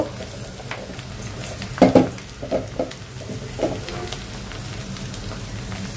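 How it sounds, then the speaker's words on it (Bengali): Onion and green chilies fry in oil in a pan, hissing steadily up close while a spoon stirs with a few knocks and scrapes. "এই পেঁয়াজটা কিন্তু আবার একটু ভাজবো তেলের সাথে"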